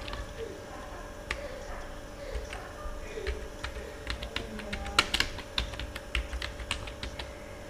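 Typing on a computer keyboard, a string of quiet irregular key clicks with a few sharper taps, close and alone against a faint background hum.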